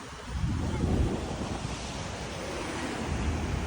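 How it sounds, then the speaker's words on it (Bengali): Sea waves roar along the Colombo coastline in Sri Lanka, a broad continuous rush with a swelling surge near the start, mixed with wind buffeting the microphone. "সমুদ্রের গর্জন শুনতে পাচ্ছেন।"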